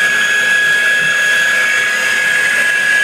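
A Baileigh DP 1500VS 20-inch variable-speed drill press runs at its highest speed in high gear, giving a steady, loud, close mechanical whine with a bright sustained tone, constant throughout and with no talking.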